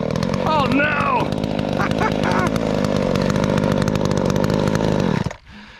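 A Big Bore 372xp and a Poulan 295 chainsaw bucking firewood roar loudly and continuously, the engine pitch rising and bogging as they cut, with a voice faintly mixed in before the saw cuts off.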